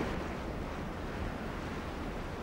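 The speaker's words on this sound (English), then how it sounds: "They sail out through the rough water." Rough sea water during the 1997 Admiral's Cup sailing race makes a steady, dense roar of waves and spray, mixed with wind buffeting the microphone, loud and continuous with no voices.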